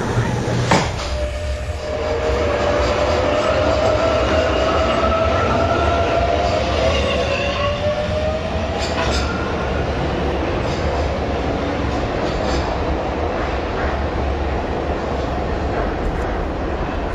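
Inside a moving subway train, a loud, steady rumble fills the carriage, with a rising whine as the train gets under way and brief clicks and knocks over the drone.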